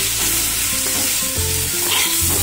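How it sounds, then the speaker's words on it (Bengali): Potato, bottle gourd and mustard stems fry in hot oil, a loud continuous sizzle with stirring scrapes close by and no talking. "তেলে আমি আলু লাউ আর সর্ষে ডাঁটাটা একটু ভেজে নেব।"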